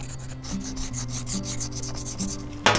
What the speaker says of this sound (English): So if I'm to scrape, so what I'd probably do is scrape the entire thing and then go ahead and peel off the cambium or the underlayer